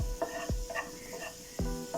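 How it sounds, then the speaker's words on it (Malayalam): Cashews and raisins fry in ghee with a soft continuous sizzle, broken by a few sharp scraping stirs of a spoon against the pan. "അണ്ടിപ്പരിപ്പ് മുന്തിരിങ്ങ വറുക്കാൻ വെറും നെയ്യിൽ വറുക്കാം"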